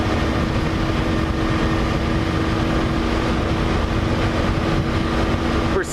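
A 2003 Yamaha XV250 Virago motorcycle engine runs flat out at wide open throttle on the highway near 65 mph, a steady loud drone buried in heavy wind rush with no letup throughout.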